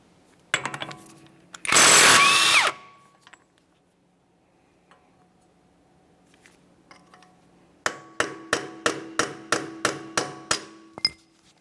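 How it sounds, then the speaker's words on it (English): Metallic hammer blows on a punch, breaking a front axle free from the wheel bearing of a 1994-1997 Honda Accord: a few scattered strikes, a harsh power-tool burst, then a rapid regular series of about ten loud ringing hits. "Use a hammer and punch to break the axle free from the wheel bearing"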